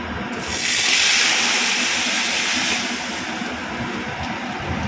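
Lentils go into a hot pan tempered with dry chilli and black mustard seeds, giving a sudden loud hiss and sizzle that peaks quickly and then settles into a steady, slightly fading fry.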